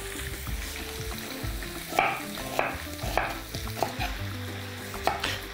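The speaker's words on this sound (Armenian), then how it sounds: "Թող մի փոքր էլ այսպես տապակվի։" Chicken gizzards frying in a pan, stirred with repeated scraping strokes over a continuous sizzle, with occasional knocks of the utensil against the pan.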